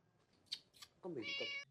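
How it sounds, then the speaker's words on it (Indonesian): A cat gives a couple of short soft sounds and then one clear drawn-out meow, close and fairly quiet against a silent background. "Untungnya kucing Akash kembali"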